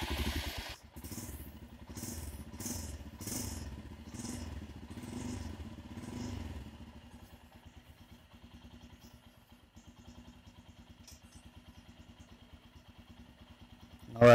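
A Royal Enfield Himalayan motorcycle idling in first gear with its rear chain rotating, a close steady engine putter with a rhythmic chain clatter, louder in the first half and then a softer even ticking.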